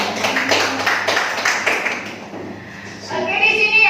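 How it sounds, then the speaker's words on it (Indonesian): Classroom applause during a positive-discipline workshop session, a steady wash of many hands clapping for about two seconds, fading, then voices talking near the end. "Tepuk tangan."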